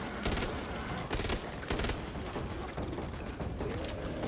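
Gun reloading in Back 4 Blood: a busy run of clicking, ratcheting mechanical clacks and metallic snaps repeating in quick bursts at steady loudness, with no talk over it.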